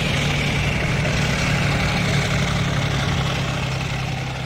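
A steady, loud tank engine drone from a video game, World of Tanks, with a deep low rumble, idling without change and no voices.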